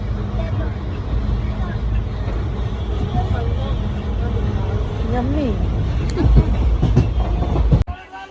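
A train rumbles and clatters as it slows to a stop at Palanpur station, with a brake squeal and a loud clunk near the end; voices talk in the background.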